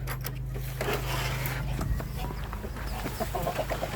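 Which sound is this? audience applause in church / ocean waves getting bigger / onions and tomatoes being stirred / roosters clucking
roosters clucking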